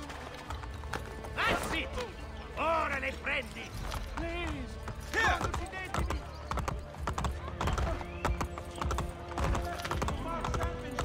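Horse hooves clip-clop steadily in Assassin's Creed Brotherhood gameplay, a quick repeated trotting rhythm with occasional whinnies, heard under frequent talk from a player.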